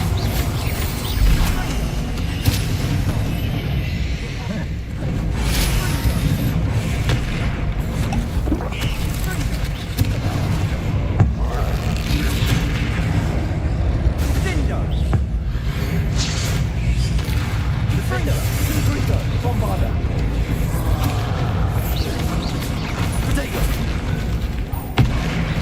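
Spell blasts and booming impacts from Confringo and Bombarda in Hogwarts Legacy, a dense, continuous roar of explosive bursts and whooshes over low rumbling battle noise, with voices speaking throughout.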